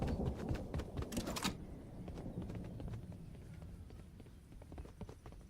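Footsteps in a game during a game-night session, a quick run of soft clip-clop thuds near the start with sharper ticks around one second, then fading into low rumbling background.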